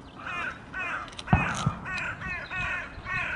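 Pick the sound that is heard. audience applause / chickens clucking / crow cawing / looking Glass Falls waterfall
crow cawing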